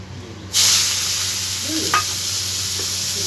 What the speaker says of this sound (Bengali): এবারে আমি এর মধ্যে কুচনো পেঁয়াজগুলো দিয়ে দিচ্ছি